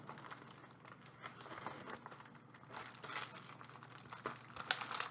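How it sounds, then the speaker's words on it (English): A plastic package holding a Star Wars Galaxy's Edge red kyber crystal is torn open up close, with continuous crinkling and rustling and a few sharper tearing bursts. No one speaks. "I think I can just tear this package open."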